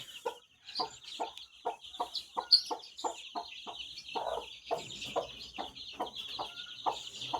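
A country-breed hen sitting with her day-old chicks on a village poultry farm gives a close, steady run of sharp rhythmic clucks, about two per second, with soft peeps and chatter underneath.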